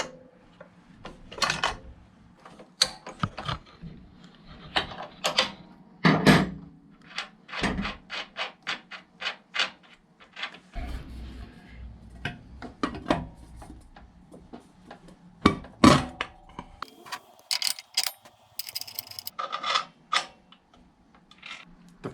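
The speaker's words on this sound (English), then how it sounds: "Your standard Dewalt XP4 blade. Installing the blade," Fitting a Dewalt XP4 blade onto a Dewalt D36000 tile saw produces a long run of close clicks, ticks and metallic clunks, with a ratcheting thumb screw being turned and parts knocking at irregular intervals.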